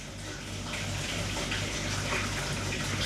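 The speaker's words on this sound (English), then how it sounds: "Hearing some water running." Steady running water near a beach, a continuous broad rushing hiss like a tap or bath filling, close and unbroken, with no talk over it.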